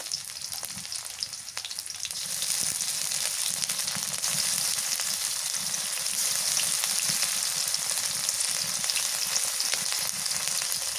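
Garlic paste and green chillies fry in hot oil for a magur fish bhuna, giving a continuous bright sizzle that grows louder after the first couple of seconds and then holds steady, with faint crackles and no voices.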